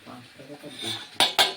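Dishes and cutlery clatter softly as rice is served, ending in two sharp, close metallic clinks of a spoon against a plate.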